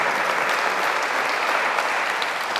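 An audience claps steadily through a political talk evening on writing, memory and democracy, a dense even applause held at constant loudness with no voices over it.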